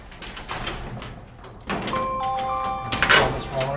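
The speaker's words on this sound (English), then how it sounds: "I'm just going to raise the door up slightly." A garage door with a screw-drive opener is raised slightly with a rattling, scraping mechanical rumble and squeaky metal tones, following some quieter handling noises.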